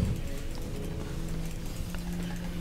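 Horse galloping in the video game Heroes of the Storm, rapid rhythmic clip-clop hoofbeats, steady and close over a low background rumble.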